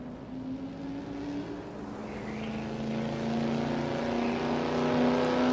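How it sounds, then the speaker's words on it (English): A muscle car engine revs with a steady, deep drone that swells slightly louder toward the end, sounding close with no talking over it. "Nice sounding car."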